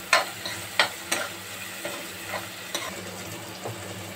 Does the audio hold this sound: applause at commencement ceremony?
no